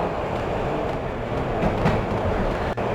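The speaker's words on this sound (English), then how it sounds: "We got the 4 train." A subway train on the 4 line in the Max Payne video game gives off a continuous, loud rumble and roar that fills the whole clip with steady rail noise, and no voices are heard.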